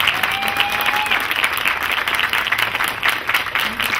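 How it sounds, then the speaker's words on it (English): An audience at a school talent show final applauds the contestants with continuous, even clapping that fills the whole stretch at a moderate distance. "Give them a great round of applause."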